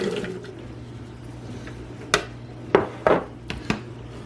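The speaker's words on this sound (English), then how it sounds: "I'll throw my onions in" Chopped onions tossed into a pan while making potato latkes, giving a few sharp clattering impacts and brief splashy bursts over a steady low background hum.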